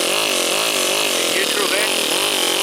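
A 2-cylinder 4-stroke overhead cam engine fitted in an RC car runs steadily, a loud, buzzy drone whose pitch wavers up and down as the throttle is worked, filling the whole stretch without pause.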